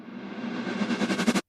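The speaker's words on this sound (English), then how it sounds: "Just a little riser." Short rising sound effect in music production, a noisy swell that climbs steadily in pitch and loudness with a fluttering pulse toward the end, then cuts off abruptly.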